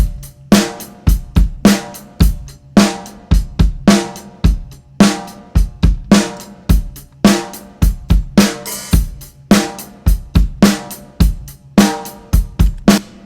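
Overhead stereo microphones capture a rock drum kit playing a steady mid-tempo beat, with sharp snare cracks, kick thumps and washy cymbals. A brief fill comes near the middle, loud and alone.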